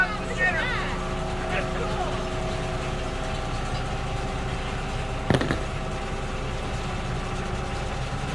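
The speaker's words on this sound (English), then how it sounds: "Thank God we got a backhoe." A backhoe engine idles and runs steadily throughout a septic system install, a continuous mid-pitched rumble close to the listener, with one brief sharp knock partway through and no speech.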